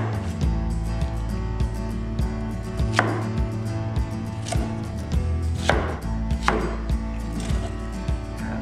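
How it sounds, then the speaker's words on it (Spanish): Knife chops an onion into cubes on a cutting board, a steady run of close, sharp thuds repeating roughly every third of a second with no talking. "Vamos a agregar la cebolla. Cortamos en cubos para que no sea tan difícil el procesado."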